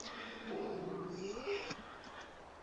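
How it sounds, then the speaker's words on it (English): A pet dog indoors lets out a drawn-out whining growl followed by a couple of short, muffled barks, fairly faint and somewhat distant, with a voice talking lightly over it. "Sounds like my dog's upset."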